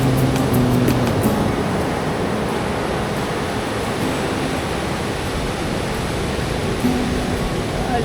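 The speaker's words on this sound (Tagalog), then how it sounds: "Lakas ng alon, grabe." Strong ocean waves at Baler surf beach: a loud, continuous roar of surf with a constant wash of crashing water, steady for eight seconds, with no talking.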